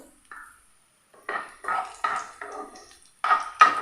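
Chopped small bananas are stirred in hot ghee in a pan over low flame, with a series of short scraping, clattering utensil strokes against the pan, close and moderately loud.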